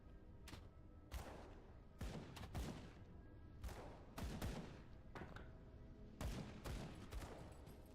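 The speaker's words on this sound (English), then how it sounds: "I hear the sounds of gunshots." Repeated gunfire bursts in the video game Grim Dawn, sharp cracks scattered irregularly throughout, some in quick clusters, fairly loud against a steady background.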